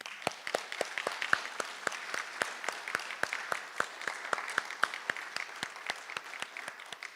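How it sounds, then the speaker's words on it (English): Sparse applause from a small audience at an elementary school spelling bee, individual claps distinct and fairly rhythmic, continuing steadily at a moderate distance. "we want to give you a big round of applause"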